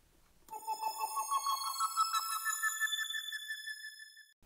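A rising logo-reveal sound effect called Prel Logo Ascend, used for a colour-reveal logo animation in Canva: a bright synthetic tone that climbs steadily in pitch with a rhythmic pulse, fairly loud and alone, ending in a sustained high note.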